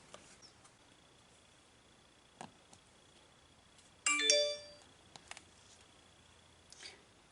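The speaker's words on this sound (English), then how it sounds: "my phone just told me the front door was opened" A phone alert chime signals that a front door was opened, a short bright tonal ring of about a second, faint and indoors amid scattered light clicks and handling noise.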